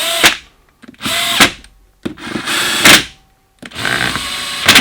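A power tool runs in several short bursts while tightening the bolts on a CP3 diesel fuel pump, starting and stopping repeatedly, loud and close with brief pauses between each run.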